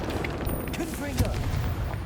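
Confringo fire-blast spell in Hogwarts Legacy going off as a booming, crackling explosion amid ongoing combat noise, with a voice shouting the spell name.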